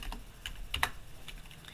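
A short run of crisp computer keyboard keystrokes as a command is typed into drafting software, a handful of close clicks with one louder pair near the middle, over faint room noise.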